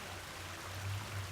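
A garden biofall waterfall spills into a pond in a closed, recirculating water system, giving a faint, steady trickling rush with no voices.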